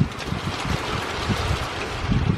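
Derecho wind gusting at over 60 mph, a loud roaring rush buffeting the microphone with rumbling surges that swell and ease throughout, no voices.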